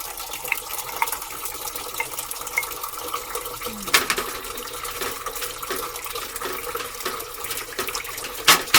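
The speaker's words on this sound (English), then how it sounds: "Put a little water in there to get the rest of the sauce out." Water runs steadily into a pot holding leftover spaghetti sauce for pasta fagioli soup, a continuous close splashing pour with a few light clinks near the end and no talking.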